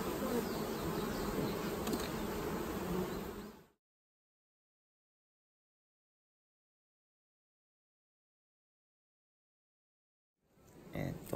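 Honeybees buzzing around beehives at a bee farm on Miyajima Island, Japan, a dense, loud, continuous swarm hum for a few seconds, then silence before the buzzing faintly returns.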